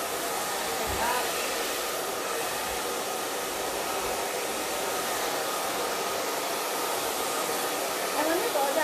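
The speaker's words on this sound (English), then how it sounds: "when you're blow drying your hair" Hair dryer blowing continuously while hair is styled with a paddle brush, a loud, steady broadband rush that holds the same level throughout with no break.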